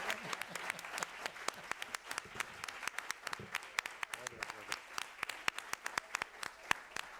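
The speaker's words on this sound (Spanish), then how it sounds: "yo voy a pedir un buen aplauso aquí para nuestro gorila" An audience applauds at a Spanish-language talk event, with sharp individual claps standing out over a softer crowd wash, moderately distant and sustained, with voices mixed in.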